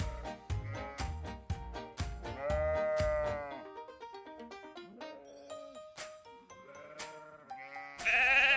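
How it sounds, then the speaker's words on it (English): Sheep bleating in a farm-animal setting, several close, loud calls with tonal harmonics, mixed with music-like tones and a brief bright jingle at the end. "Sheep."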